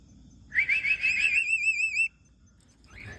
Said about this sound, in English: I'm going to get it to whistle for you.